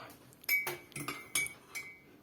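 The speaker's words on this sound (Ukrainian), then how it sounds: "Обережно помішуємо." A metal spoon stirring salt into water clinks lightly against the glass several times in quick, uneven taps, soft and close, with no voices.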